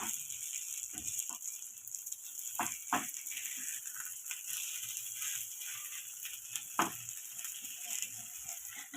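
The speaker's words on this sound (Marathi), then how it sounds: "हे आपल्याला शॅलो फ्राय करून घ्यायचे" Poha cutlets shallow fry in a pan with a continuous bright sizzle, broken by a few knocks and scrapes of a spatula as they are turned; close and quiet, no voices.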